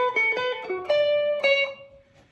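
Electric guitar playing a short lead phrase from a solo, a few quick plucked notes ending on a held, ringing note that fades, up close with no talk.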